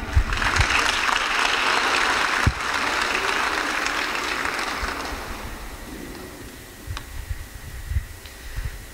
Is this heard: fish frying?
no